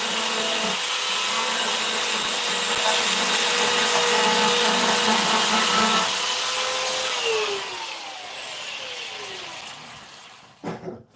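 Power sander running on wood fitted with 160 or 180 grit paper, a loud steady whirring rasp for several seconds that then winds down with a falling whine and fades out, ending with a few brief knocks.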